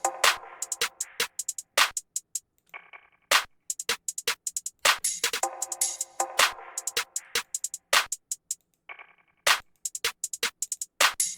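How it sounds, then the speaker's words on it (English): Hi-hat and open hi-hat pattern programmed in FL Studio for an emotional piano beat, with crisp rhythmic ticks and longer open-hat sizzles repeating in a steady groove, sounding alone. "Then I added my hi-hat and I added my open hi-hat"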